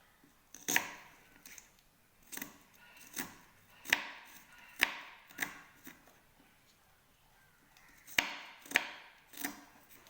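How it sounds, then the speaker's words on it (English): A knife slicing the white part of green onions on a board, about a dozen crisp chops in small irregular bursts with short pauses, close and fairly quiet. "Now we can cut white part of the green onion."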